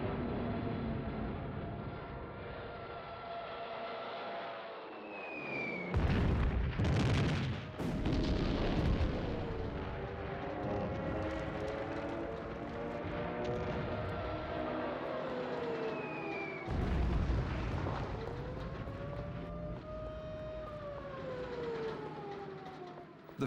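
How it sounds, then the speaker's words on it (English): Wartime bombardment of a besieged Warsaw, September 1939: continuous rumbling artillery fire with heavy explosion bursts and wailing, siren-like tones rising and falling, loud and sustained with no talk. "On the 25th of September, Hitler orders the bombing of Warsaw."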